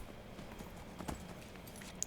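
Hooves of a horse trotting in Skyrim, a soft steady clip-clop under a quiet background, with a sharper knock right at the end.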